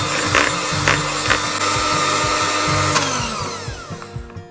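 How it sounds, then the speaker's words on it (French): Electric hand mixer whirring steadily through cupcake batter after eggs are added, a loud close motor hum with rhythmic knocks of the beaters against the bowl, slowing and fading near the end. "on peut battre avec le batteur électrique"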